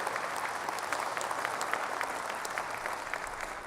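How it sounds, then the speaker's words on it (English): An audience at Sony's E3 2006 press conference gives a continuous round of applause, an even wash of many hands clapping across the hall with no speech over it. "please, round of applause for the great work there."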